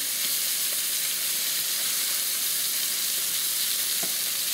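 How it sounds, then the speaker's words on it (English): Apple bacon pork chops sear in a hot pan with a steady, dense sizzle and hiss, occasional small pops standing out from the constant frying crackle. "they're sizzling up now, it's searing"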